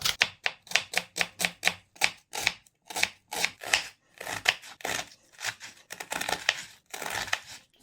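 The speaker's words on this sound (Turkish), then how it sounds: "Soğan doğrayalım." Rapid knife chops through an onion on a cutting board, crisp crunchy strokes in quick bursts with short pauses, close and clear with no talking.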